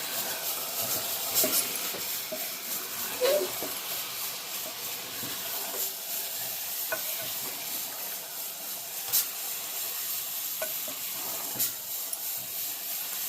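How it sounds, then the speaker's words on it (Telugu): Chicken fries in a pan with a steady, hissing sizzle. Scattered sharp clicks and scrapes come from stirring throughout. "ఇంకా చికెన్ అంతా వేసుకుందాం. బాగా కలుపుకుందామండి."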